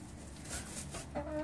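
A show chicken clucks close by, a few soft low clucks followed by a brighter, rising call near the end, quiet and alone.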